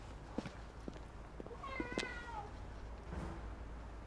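A cat in the video game Forspoken meows once clearly in the middle of a quiet scene, with a few soft footsteps and faint movement around it.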